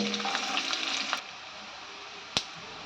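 Mustard seeds, cumin and thinly sliced onions fry in hot oil, giving a bright steady sizzle that fades after about a second, followed by a sharp single tap near the end.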